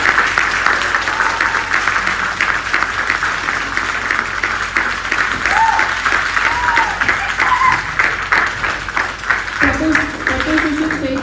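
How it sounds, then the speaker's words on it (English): Steady, full applause from a debate audience welcoming the speakers continues throughout, dense and evenly loud, with faint voices and cheers mixed in near the end. "Let us put a big round of applause."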